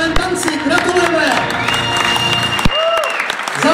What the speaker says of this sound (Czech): Za vašeho potlesku!